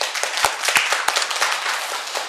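Audience at an education committee session applauds the retiring Southern Library director, a crowd of hands clapping steadily at close range, with a few sharper claps standing out.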